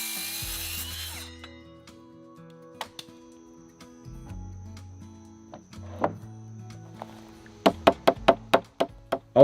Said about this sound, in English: I'll attach the 2x6s and the 2x10 with 3-inch deck screws